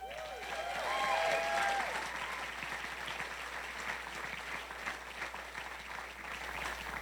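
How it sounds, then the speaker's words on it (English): Wedding guests applaud during a father of the bride speech, a fairly faint, distant-sounding crowd clapping that swells early and then continues steadily, with a brief whistle-like tone near the start. "Round of applause, please."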